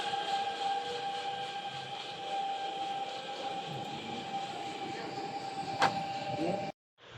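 A Norwegian electric train on overhead wires hums past steadily at moderate distance, a sustained whine and rumble, ending abruptly in silence.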